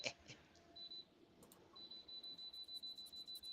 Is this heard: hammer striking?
no